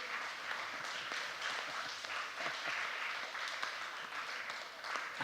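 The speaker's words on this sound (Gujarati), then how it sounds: "એક વખત બધા ઊભા થઈને તાળી પાડો" Sustained applause from a standing audience at a youth camp, many hands clapping in a dense, even roar that holds steady throughout with scattered louder individual claps.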